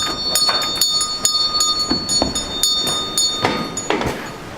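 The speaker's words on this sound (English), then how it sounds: "There's the bell that we heard." A bell in an old mill, shaken by pulling a rope, clangs in a string of irregular metallic strikes, close and fairly loud, with clattering mechanism noise between rings.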